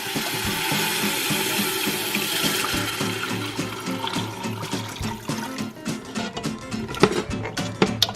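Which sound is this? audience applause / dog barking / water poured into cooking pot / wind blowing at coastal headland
water poured into cooking pot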